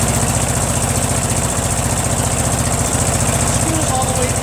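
A Briggs & Stratton opposed-twin engine running on choke, fitted with a Nikki carburetor, idles with a steady loud low throb and rapid even pulsing throughout, with no pauses.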